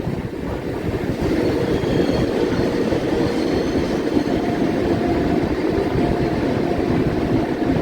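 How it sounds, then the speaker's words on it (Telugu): Inside the Chennai–Nizamuddin Duronto superfast express, a steady, loud carriage rumble fills the cabin with dense low roar, faint rhythmic clatter and some wind buffeting as the train begins to slow. "స్లో అవుతుంది బండి."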